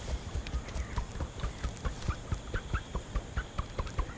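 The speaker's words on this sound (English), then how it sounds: "the sound the sand makes when you walk over it" Squeaky footsteps crunching over sand in the video game Big Walk, a regular walking rhythm of sharp squeaks and soft thuds, close and moderately loud, no speech.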